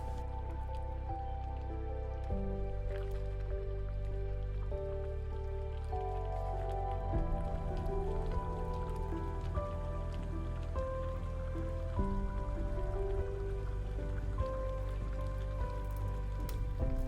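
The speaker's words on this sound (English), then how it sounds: "I'll gently introduce spoonfuls of the grated water yam into the boiling sauce" Spoonfuls of grated water yam drop into boiling palm oil sauce in a Nigerian pottage, giving a steady bubbling, crackling simmer with soft wet plops throughout, moderately close.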